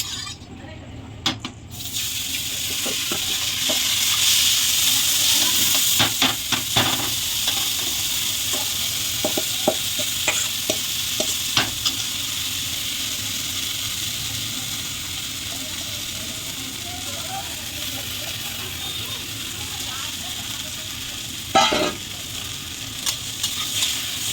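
Washed mung dal frying in hot oil, a steady close sizzle with occasional stirring clinks and scrapes in the pan, no talking.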